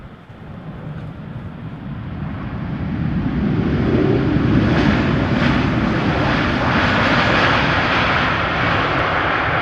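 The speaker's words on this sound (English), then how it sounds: "KLM flight 758, 787-10 Dreamliner arriving from Panama City, about to touch down" KLM Boeing 787-10 Dreamliner landing at Amsterdam Schiphol Airport in showery weather, a loud, steady jet engine roar that swells over the first few seconds and then holds as a continuous rushing drone.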